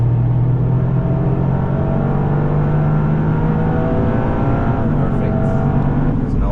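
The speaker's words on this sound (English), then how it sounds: "Now we go right next to the curb and already start accelerating to the left side." A Toyota GR Yaris accelerating on the Nürburgring, heard from inside as a loud, steady engine drone rising slowly in pitch, with a voice talking over it throughout.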